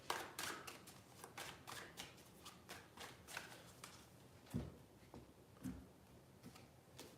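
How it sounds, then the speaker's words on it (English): Tarot cards being shuffled by hand, a quiet run of quick riffling flutters and soft taps in irregular bursts, close and faint with no talking. "I'm gonna shuffle the cards real quick"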